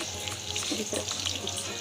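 Chopped garlic sizzling in 3 to 4 tablespoons of hot cooking oil for a tadka, a steady close crackle with small pops throughout.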